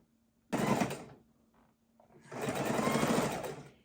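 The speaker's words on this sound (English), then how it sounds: "we are just going to keep on chain sewing our blocks together" A sewing machine chain-stitches quilt blocks together for a king-size quilt border, running in two steady bursts, a short one and then a longer one, with a quiet pause between them.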